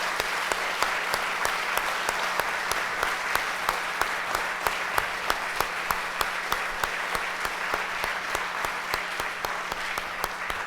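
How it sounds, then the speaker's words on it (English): Sustained round of applause for candidates at a 2019 North Vancouver Island election debate, a full hall clapping steadily and evenly throughout, loud and close with a few sharper individual claps standing out. "a big round of applause to all these great candidates"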